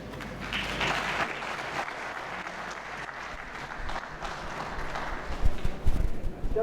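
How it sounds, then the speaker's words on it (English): An audience at a lecture on Polish refugees in Pakistan applauds after remarks, steady clapping that swells slightly and turns louder and more uneven toward the end. "you need a big round of applause again"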